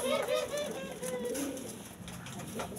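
Pet doves such as perkutut, tekukur or puter coo in soft rounded calls, nearby and repeated over a faint background hiss.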